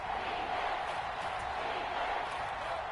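A roaring stadium crowd in an American football video game, heard as a steady, dense wash of cheering noise that stays loud and even throughout.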